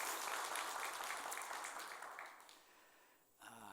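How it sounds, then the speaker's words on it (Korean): A church congregation claps to welcome a new soloist, a soft, fairly distant round of applause that gradually fades out, followed by a brief murmur of voices at the end. "우리 박수로 환영하도록 하겠습니다"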